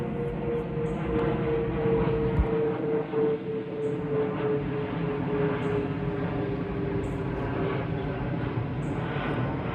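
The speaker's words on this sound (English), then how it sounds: "I hear a plane going by." A plane passes overhead during a nearby strong thunderstorm, with a steady broad engine roar and a drawn-out droning tone holding at moderate loudness for about ten seconds while faint high chirps sit above it.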